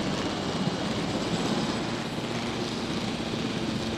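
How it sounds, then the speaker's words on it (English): Helicopter in Jurassic World Evolution, a steady loud rotor and engine drone holding evenly throughout with no talk. "Helicopter has a strong tail rotor."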